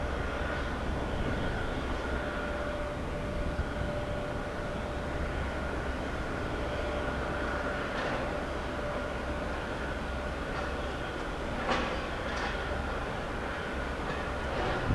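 A JetBlue airliner taxis out for departure at JFK, a steady broad rumble of engines holding throughout with a faint tonal whine, moderately distant and without talk.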